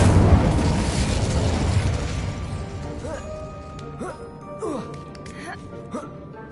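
A fire spell cast as Incendio in a Harry Potter-style video game erupts in a loud, broad whooshing blast that fades over a couple of seconds, followed by faint tonal game effects.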